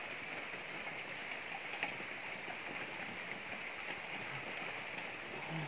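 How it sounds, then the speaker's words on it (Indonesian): Steady, soft hiss of light drizzle falling continuously at 4 a.m. in a garden, an even wash of fine droplets with no voices or distinct splashes standing out. "Hujan yang renyai-renyai."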